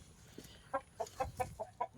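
Several soft, close clucks from a chicken in a quick irregular series over a quiet background, in a chicken breeding pen.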